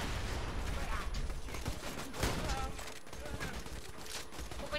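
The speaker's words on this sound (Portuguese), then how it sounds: "O ruim dessa arma é que é um tiro por vez." Rapid bursts of gunfire in the video game Borderlands 2, sharp cracks and rattling volleys at moderate volume, with a voice speaking over them.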